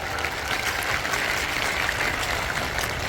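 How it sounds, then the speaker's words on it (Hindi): Crowd applause at a political rally in a pandal in Bhadra: a dense, steady wash of clapping that lasts throughout, heard from within the audience without speech. "जोरदार ताली के साथ"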